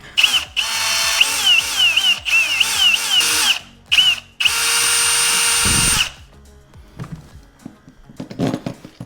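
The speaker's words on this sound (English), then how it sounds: "all you're gonna do is drill this out" A power drill bores out the hard plastic of an Old Town Sportsman kayak, several loud whining bursts with short pauses between them, then one longer steady run, followed by softer clattering handling noises.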